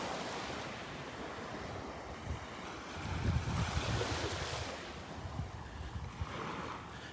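Ocean surf rolling onto Vanderbilt Beach on a morning walk, a continuous wash of breaking waves with wind noise buffeting the microphone, fairly loud and unbroken.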